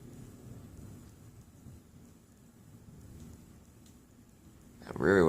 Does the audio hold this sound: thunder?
yes